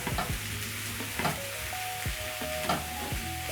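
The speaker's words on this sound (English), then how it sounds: "Stir in the ginger and let the ginger cook together with the green onions." Grated ginger stirred into a pan and cooking with green onions, a steady sizzle under repeated scraping strokes of a utensil against the pan, close and moderately loud with no talking.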